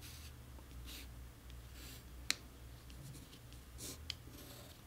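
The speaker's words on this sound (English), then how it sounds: "Just going to trace it onto my paper." Pencil or marker tracing around a cardboard shape onto paper during an art demonstration, quiet scratchy strokes with a couple of sharp taps, faint and close, no talking.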